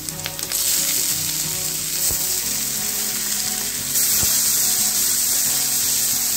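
Chopped tomatoes go into a pan of golden fried onions for pav bhaji, a loud steady sizzle and crackle with a brief stirring scrape and a few knocks, and the hiss swells after the addition, with no speech.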